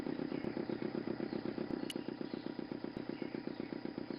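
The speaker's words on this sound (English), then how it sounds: "The motor spluttered into life." A motor in the Broken Sword II game splutters and runs, a fast, even chugging pulse of a small engine, moderately loud and steady with a brief click partway, no talk.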